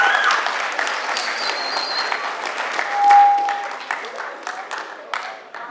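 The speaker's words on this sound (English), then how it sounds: "So give yourself a round of applause once again." A high school freshman orientation audience applauds in a steady crowd of claps, with a brief whistle and faint voices mixed in, fading toward sparse claps at the end.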